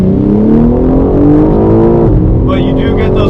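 Loud, steady engine drone of a BMW M4 Competition xDrive heard from inside as it downshifts, the revs climbing and then dropping with no exhaust pops, and a brief whine near the end.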